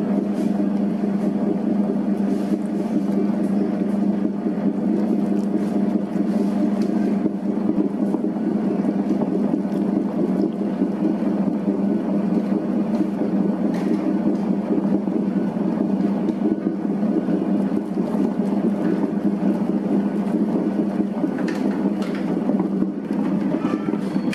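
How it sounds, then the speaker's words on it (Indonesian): A dough mixer machine kneads banana bread dough with a steady, loud motor drone that holds unchanged from start to finish, heard alone without speech. "Nyalakan mesinnya, langsung mengadon."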